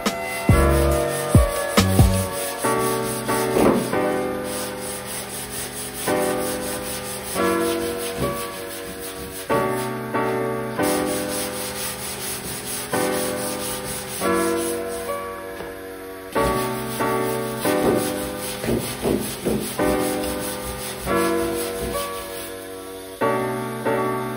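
Sanding block rubbing over filler on a Ford Escort bonnet, with close, rhythmic back-and-forth strokes repeating steadily for a long stretch and brief pauses between passes, no voices.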